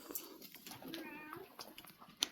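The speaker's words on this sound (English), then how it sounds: "He's an outdoor cat." An outdoor cat on a snowy front porch gives a brief, faint meow amid quiet background noise.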